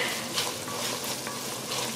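Aromatic vegetables sauté in hot oil for a Trinidadian fish broth, giving a steady, close, moderately loud sizzle with faint stirring scrapes throughout and no talking.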